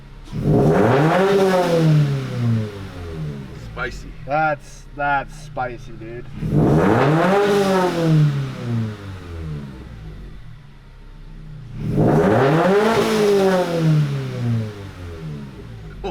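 A Subaru BRZ engine with a new JDL 4-2-1 header revs hard three times, each roar climbing and falling, with loud excited voices talking in the gaps between revs.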